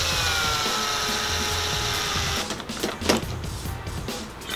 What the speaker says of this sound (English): The easiest thing to do is just drill these and remove them.